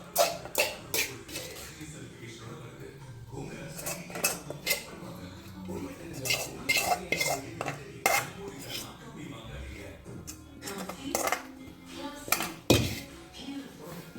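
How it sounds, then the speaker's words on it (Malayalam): Caramelized carrot mixture stirred into cake batter in a bowl, with steady clinking and scraping of a spoon against the bowl, plus a brief cough and some faint voice. "ഇളക്കാം."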